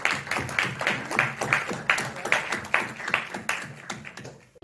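An audience applauds award winners at a short-film festival ceremony in a hall. Claps come in a brisk, fairly even rhythm of distinct bursts that carry on for several seconds before briefly dropping out.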